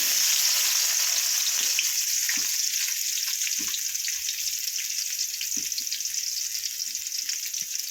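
Chopped small onions fry in hot oil for a crab gravy, giving a loud, steady, close sizzle with occasional soft pops and stirring thuds and no voices.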